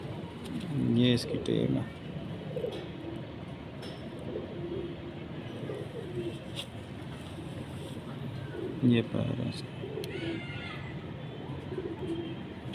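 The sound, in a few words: pigeons cooing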